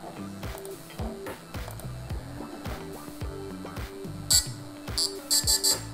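FPV drone ESC beeping out its programmed melody: one short high-pitched beep, then a quick run of three more near the end, heard over busy, steady background sound.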